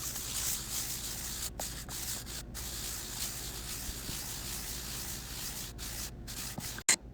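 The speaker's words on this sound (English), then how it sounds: "Here I'm putting a little orange oil on some 4/0 steel wool and rubbing down the legs" Rubbing 4/0 steel wool soaked in orange oil along vintage rock maple table legs, a steady close scratchy scrubbing that carries on unbroken, with a sharp knock near the end.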